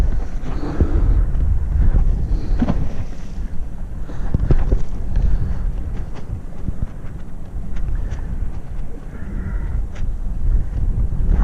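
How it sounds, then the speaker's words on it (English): Gusty coastal wind pummels the microphone near the surf in a constant loud low roar, with occasional sharper gusts and clicks and no talk. "Windy here"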